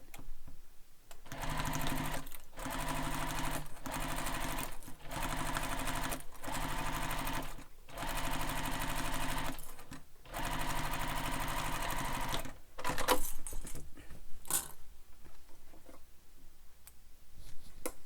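A sewing machine stitching the zipper pocket panel of a sling bag runs steadily and close for about twelve seconds in several bursts separated by brief pauses. It then stops, leaving scattered handling clicks.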